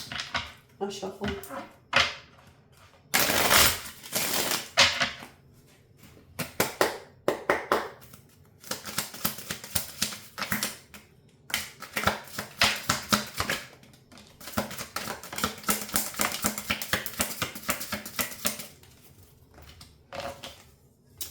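Tarot cards are shuffled by hand in close, irregular bursts of riffling and slapping, with brief pauses between rounds and a voice talking now and then.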